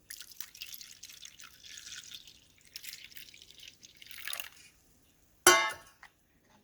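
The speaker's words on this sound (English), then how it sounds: "I am going to use 1 more cup of water." Water poured from a cup into a blender grinder bowl while making idli batter: a thin trickling stream for several seconds, then a short splashy gush before it stops, close and fairly quiet.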